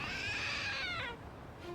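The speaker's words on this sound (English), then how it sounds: "It meowed. So it's a trick statue." A cat statue in the Lost Judgment video game lets out one drawn-out, falling meow. The call is fairly close and clear over a steady low background hum, with no talking.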